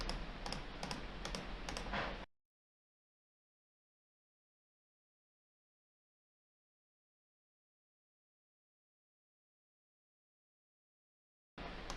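Quick bursts of typing on a computer keyboard, rapid close key clatter for about two seconds, then silence until a brief return of keystrokes at the very end.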